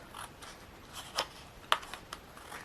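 Scissors snip a quilted paper tag in a quiet room, with two distinct crisp cuts and soft paper rustling between them.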